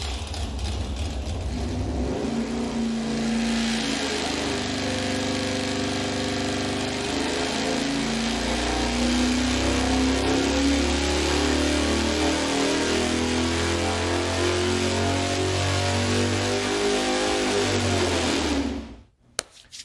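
A V8 engine fitted with Mopar parts and a conventional electronic ignition control runs steadily at a smooth, loud idle-to-mid rumble for nearly twenty seconds before cutting off abruptly.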